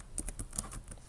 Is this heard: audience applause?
no